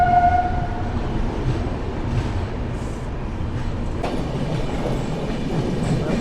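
The Lokmanya Tilak–Patliputra Superfast train rolls into Maihar railway station with a brief horn at the start, then a continuous close rumble and rhythmic clatter of wheels and carriages.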